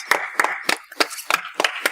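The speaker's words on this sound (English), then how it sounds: "Let's give Jonas a round of applause" A few people clapping on a podcast, quick separate claps at an irregular pace, close and fairly soft, with no voices over them.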